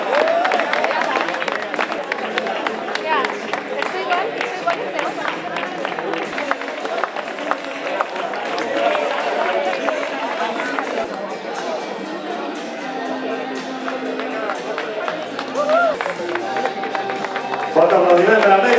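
A crowd applauds finishers at the Manresa 10K urban race in Catalonia, steady clapping and general crowd noise running throughout, with a public-address voice and chatter over it.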